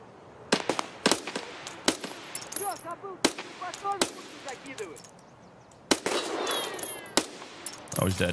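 Gunfire in a GTA roleplay video game: sharp, loud shots go off in separate bursts and single cracks with pauses between them, some rapid and echoing, with faint background sounds but no clear talk.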